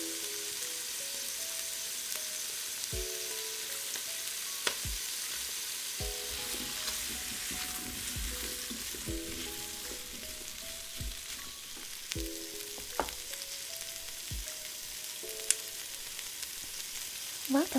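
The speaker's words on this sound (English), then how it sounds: "Please sit back, relax, and enjoy the sounds of the sizzling ingredients." Tomatillo sauce ingredients frying in a pan for tamales, a continuous soft sizzle with scattered pops and occasional stirring clinks, heard alone.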